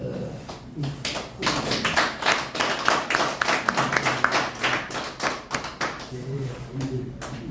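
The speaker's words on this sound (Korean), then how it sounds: "나오실 때 박수 한번 보내주시죠" A seminar audience claps for people coming forward, a fairly loud burst of many hands in dense irregular rhythm that swells and then thins out over several seconds.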